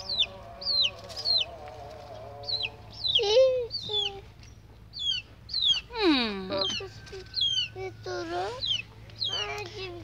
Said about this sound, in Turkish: Minik bir civciv var burada.